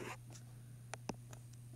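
Pen strokes scratch across paper in short, faint, separate bursts during an algebra lesson, a few quick scribbles against a quiet hum.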